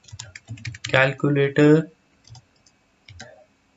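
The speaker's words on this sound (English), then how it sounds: "first I'll type Django" Quick clicking keystrokes on a computer keyboard while coding a Django calculator app, close and crisp, mostly under someone talking, with a few isolated clicks in the pauses.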